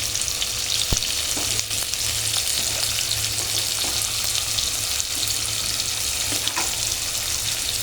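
Chopped onion frying in a pan makes a loud, continuous sizzle up close, with occasional scraping stir clicks and light clatter throughout and no talking.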